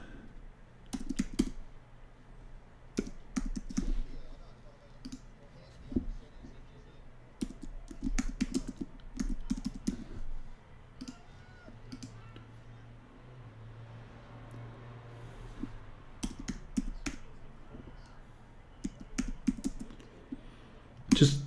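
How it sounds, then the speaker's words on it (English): Rapid clicking of a computer keyboard, bursts of keystrokes with short pauses between them, close up and fairly quiet, with a low hum underneath. "Just typing in the next poll"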